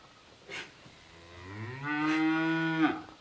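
A Simmental cow gives a single drawn-out moo that rises and holds before breaking off, heard close and clear over quiet farm surroundings.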